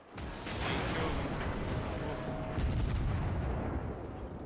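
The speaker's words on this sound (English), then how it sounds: "And one of the shells hit the mountain" Naval gun shells striking a mountain in World of Warships, a rumbling wash of booms and blasts rising and swelling, with a voice talking over it.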